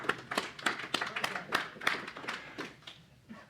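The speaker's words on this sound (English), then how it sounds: "let's all give Sam a round of applause" A small audience claps in a round of applause at a woodturning symposium demonstration, scattered hand claps close and moderately loud, thinning out toward the end.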